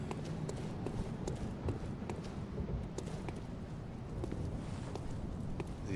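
Heavy enemy footsteps in the video game Bloodborne, a steady stream of thudding, clip-clop-like impacts repeating over dense game ambience, fairly close and continuous throughout.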